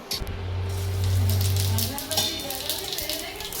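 Onion, cumin and garlic sizzle in hot oil in a pan, a steady close hiss with a loud low hum early on, while a person talks over it.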